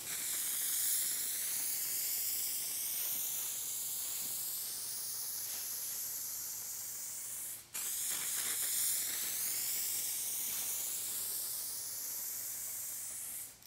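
A rattle can sprays paint onto a car panel in medium and light blending coats. Two long, steady hissing bursts sound close up, separated by a brief pause, and there is no talking.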